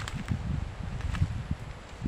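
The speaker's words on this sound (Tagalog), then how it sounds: "Mahangin pa po." Gusty wind sweeping through storm-damaged rambutan trees, a low buffeting rumble with soft leafy rustling that rises in several brief surges, close and steady throughout.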